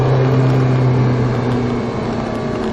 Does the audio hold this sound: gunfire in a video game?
no